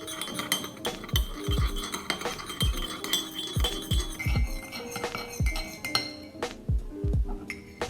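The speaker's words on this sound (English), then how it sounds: "you need to stir it with your spoon" A spoon clinks and scrapes against a glass while stirring Nesquik, giving a close, uneven run of bright metallic taps and swirls with short pauses between strokes.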